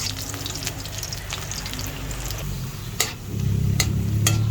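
Ginger sizzling and frying in hot canola oil in a pan, a steady crackling hiss that swells louder partway through with a few sharp clinks of a utensil stirring.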